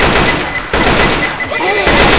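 A pipe bomb goes off in a co-op zombie shooter during a tank fight. A loud, dense series of blasts and gunfire bursts is followed by a brief lull, then another roaring burst.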